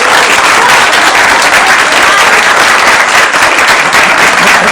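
Dense, steady applause from an audience at a panel discussion fills the whole stretch, many hands clapping loudly and continuously without a break.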